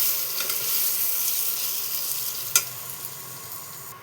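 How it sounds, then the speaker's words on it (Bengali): Semolina frying in a pan with milk for shuji gives a steady soft sizzle throughout, broken by one brief louder crackle or scrape near the end. "ভালো মতন এর সাথে ভেজে দিতে হবে"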